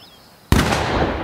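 A single loud, booming shot from a large cannon-like gun in the horror game The Quarry bursts out of near silence and leaves a long, roaring decay.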